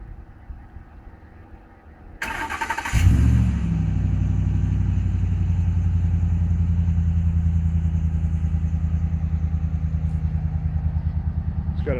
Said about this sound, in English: So here's the startup noise.